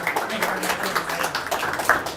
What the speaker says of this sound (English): please everyone give Dr. Eagen a big round of applause